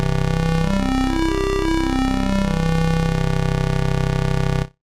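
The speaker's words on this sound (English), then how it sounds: "as I sweep through this wavetable, you'll hear all those additional harmonics." A sustained synth tone from a Massive square wavetable, its harmonics swelling and sweeping upward then settling back down as the wavetable position moves, steady and loud for about five seconds before cutting off abruptly.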